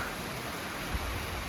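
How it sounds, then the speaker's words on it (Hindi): Steady broadband rushing of falling water from a small waterfall on the Chorabari Lake trek near Kedarnath, continuous and even, close by with no voices. "तो आप देख सकते हो एक छोटा सा झरना।"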